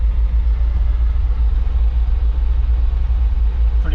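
Toyota 7K turbo engine idling steadily just after its first start, a continuous loud low rumble close up with no break across the whole stretch.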